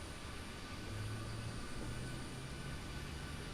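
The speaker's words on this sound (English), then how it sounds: "We're going to go ahead and spool up the APU." Auxiliary power unit of a PMDG 737-800 in Microsoft Flight Simulator, heard from outside as a steady broadband roar with a low hum, faint and even throughout, with no talk.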